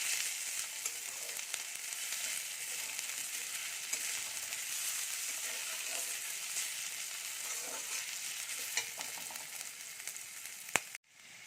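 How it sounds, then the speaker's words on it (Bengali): A spice paste with ginger and green chilli fries in a pan for vegetable chop, a steady, fairly quiet hiss of sizzling oil with faint stirring scrapes, ending in a brief knock. "মশলাটা একটু ভালো করে কষিয়ে নেব"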